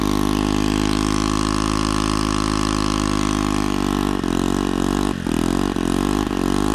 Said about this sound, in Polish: Dobra, bo skuter rusza.